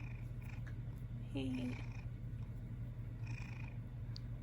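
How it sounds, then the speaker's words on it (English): A pet cat purrs in a steady, continuous low rumble close by, running throughout while people chat and laugh over it during a family game show at home. "purring so loud"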